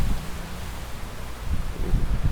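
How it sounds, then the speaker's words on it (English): Steady wind rushing through trees in the aftermath of Hurricane Ian, a soft continuous rustle and gusting hiss with slight swells, fairly faint and with no voices. "So you can hear the wind is still kicking up pretty good."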